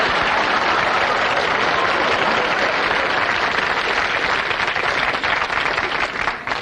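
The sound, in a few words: studio audience applause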